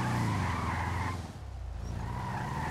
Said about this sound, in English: Feel like she can do a burnout pretty good.